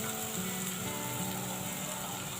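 Chopped onions sizzle and fry in a pan, a dense, continuous crackle that stays loud and steady throughout with no talking.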